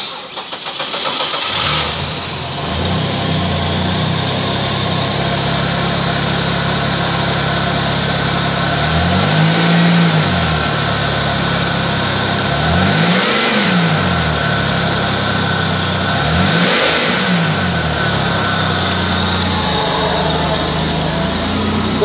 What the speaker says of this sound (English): Engine run video.